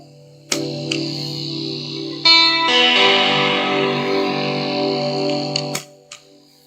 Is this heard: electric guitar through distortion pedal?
yes